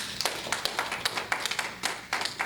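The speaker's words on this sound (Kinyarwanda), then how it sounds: "dukomere Imana amashyi" A church congregation claps in praise, a handful of separate, uneven hand claps rather than a full roar, fairly close and without talk.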